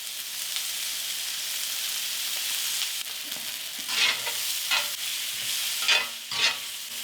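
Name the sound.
onions and peppers frying in a pan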